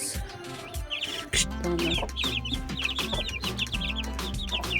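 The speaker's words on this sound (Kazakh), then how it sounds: "кішкентай балапандары бар" A hen with small chicks, chirping in quick high peeps over low clucking, steady and close, with a brief word of talk and some background noise.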